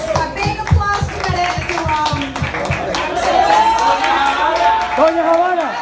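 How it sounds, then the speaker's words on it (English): A small group at a dinner gathering claps for Héctor y Nivia, a brief burst of close hand claps at the start that quickly gives way to talking and singing voices. "Big applause for Héctor y Nivia."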